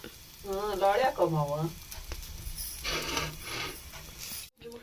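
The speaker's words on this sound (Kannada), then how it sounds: "ಈಗ ಇದೆಲ್ಲ ಲಾಳಿ ಹೋಗೋ ಮಟಾನು ಫ್ರೈ ಮಾಡ್ಕೊಳ್ಳೋಣ್ರಿ ಬೆಂಡಿಕಾಯಿ" Chopped okra (lady's finger) fries in a pan until its slime cooks off, a close crackling sizzle running throughout, with a voice speaking briefly over it near the start.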